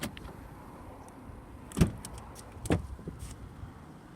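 A 2018 Mercedes-Benz E220d locks and unlocks by a touch on the door handle, giving two brief quiet clicks with a soft mechanical thunk about a second apart against a faint outdoor hush.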